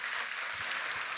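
A church congregation applauds, a dense, steady wash of many hands clapping together that holds at an even level for the whole moment, with no voices standing out.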